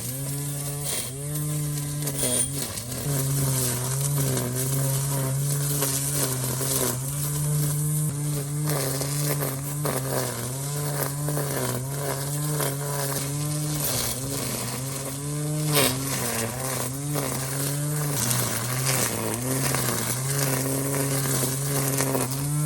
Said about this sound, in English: I'm mowing this, or weed eating down this